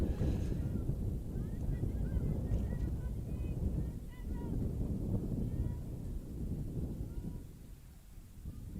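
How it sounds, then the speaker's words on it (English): Strong gusts buffet the microphone at an outdoor women's lacrosse game on LeMoy Field, a dense low rumble swelling and easing over several seconds while faint voices and whistle-like chirps sit underneath. "Super windy again, very sunny, no clouds in the sky, but it is windy."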